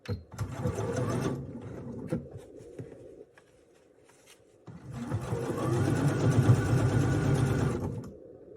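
A sewing machine stitches a fabric pouch in two steady bursts of fast, whirring needle strokes, pausing in between, close up and without talk.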